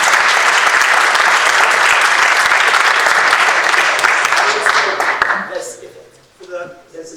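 Loud, continuous audience applause from a roundtable Q&A crowd fills the room with dense clapping for several seconds, then tapers off and fades into scattered claps and quiet murmurs.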